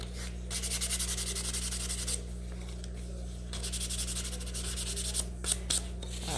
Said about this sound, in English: So I'm gonna sand that one.